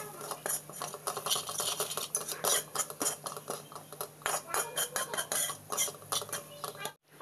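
A spoon mixing red chili and coriander powder spices in a dish for a spicy Maggi masala preparation, giving continuous loud, close scraping and clinking of metal against the dish with no talk.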